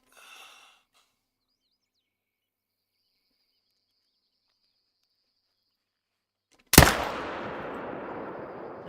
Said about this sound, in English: take it with the rifle.